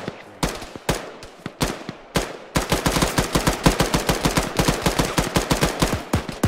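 Gunshots in the Arma 3 military video game, set in a desert: a few spaced single shots, then a loud, fast, continuous run of rapid fire, close and prominent.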